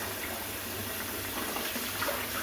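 Water runs steadily from a tap while cuttlefish are rinsed, a continuous soft gushing splash that stays even and fairly quiet throughout, with no voices.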